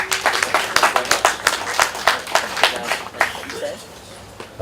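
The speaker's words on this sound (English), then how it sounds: "Please give it a round of applause to James Gilbert" Audience applause at a South African press conference for the Gymkhana Grid 2017 event: a steady round of clapping with dense, rhythmic hand claps that tapers off near the end, heard without talk.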